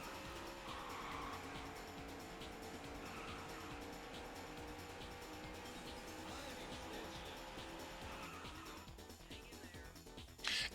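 Car engine and tire noise from the Daytona USA arcade racing game rise and fall steadily in a sustained drone, ending in a sharp burst.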